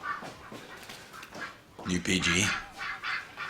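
Geese honk in a hall in bursts of loud, nasal calls that overlap with a person speaking nearby and sound close and somewhat chaotic.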